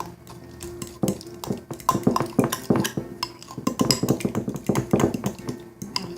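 Horseradish being mixed into cream cheese in a bowl, close spoon scraping and clinking against the sides in a steady, uneven rhythm of strokes.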